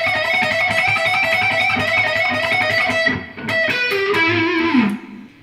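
A heavily distorted electric guitar plays a fast neoclassical shred lick. A rapid, continuous run of notes sounds loud and close, and a brief bend closes the lick before it cuts off.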